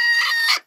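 A single short cluck from a small bantam hen, close and loud, ending abruptly.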